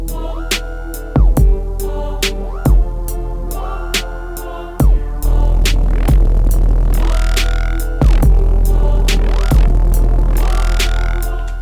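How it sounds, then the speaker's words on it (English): Loud, heavily distorted tones from a Waves Berzerk distortion plugin with a thick, buzzing bass, played in repeated phrases with gritty, saturated harmonics and no voices. "you got some pretty berserk control over this distortion"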